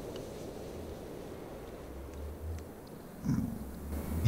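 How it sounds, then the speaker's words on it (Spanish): A Minecraft cat purrs softly in a low, steady rumble with a few small snuffly breaths, faint and close, with no voices over it. "mira, que era un gatito"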